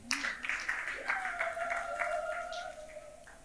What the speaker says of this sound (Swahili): Ongeza makofi na vigelegele.